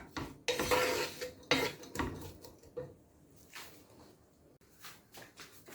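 A spoon stirs onions softening in a pot, with clattering scrapes and knocks against the metal in a few bursts, then quieter faint cooking, and no talk.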